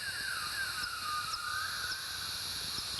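Slowed-down bat social call recorded in Bolivia: a faint, continuous wavering chant with sweeping pitch, a few soft higher chirps, over a steady hiss, no talking.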